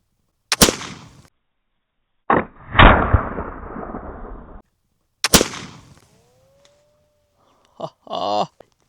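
A flintlock rifle fires at a can down a road: two loud, sharp shots with a crackling ignition and a lingering echo, followed by faint clicks and a short mechanical rattle.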